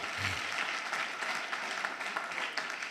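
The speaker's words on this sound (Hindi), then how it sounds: "ताली बजाइए, मेरे को पूरा भरोसा है।" Audience applause at a Hindi motivational talk, a steady wash of many hands clapping throughout, fairly faint and distant, with no speech over it.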